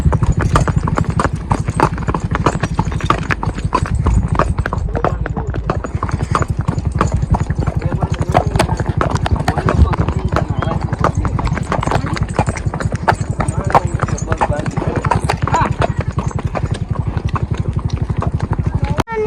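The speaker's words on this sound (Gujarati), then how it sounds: "હા ઘોડો" Horse hooves clip-clop steadily and loudly throughout at close range, a dense continuous rhythm of hoof strikes with a faint engine-like hum underneath.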